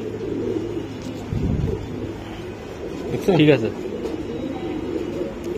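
Two imported foreign racing pigeons coo in a loft, a few low throaty calls mixed with background noise while someone speaks briefly.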